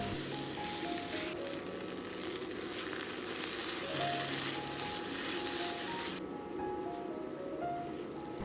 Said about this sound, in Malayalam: അപ്പം അത്യാവശ്യം എണ്ണയൊക്കെ വേണം കേട്ടോ സവാള വഴറ്റുമ്പോൾ